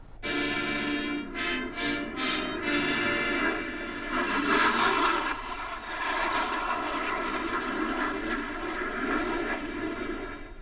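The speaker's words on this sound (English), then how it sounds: "the Navy honored President Bush with a 21-plane flyover before that private burial service." A loud Navy military aircraft flyover, part of a 21-plane formation at a presidential burial in College Station, roars overhead and holds steady for several seconds, then gradually fades as it passes.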